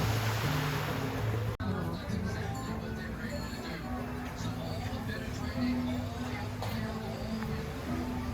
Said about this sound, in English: There are waves out there breaking.